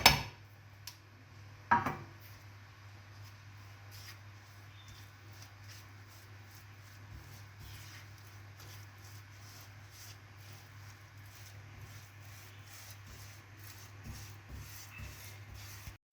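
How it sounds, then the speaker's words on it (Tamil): Paal kova, a milk sweet with icing sugar, is stirred in a pan with slow, faint rubbing and scraping strokes, with a couple of louder knocks near the start and a low steady hum underneath. "கை விடாமல் கிண்டிக்கிட்டே இருங்க"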